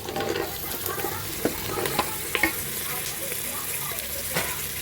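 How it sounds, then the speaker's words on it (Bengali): Chopped vegetables fry with onions in a hot pan, a continuous sizzle broken by scattered clicks and scrapes of a spatula stirring them around. "এবার ভালো করে আমি ভেজে নেব।"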